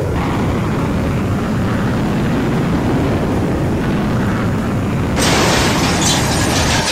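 An airplane crashes in the Roblox video game after a fast flight: a steady roaring rush of engine and wind holds for several seconds, then a sudden loud broadband burst of impact noise takes over and continues to the end.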